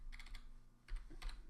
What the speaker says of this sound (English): So I go to my cell D2 and type in the command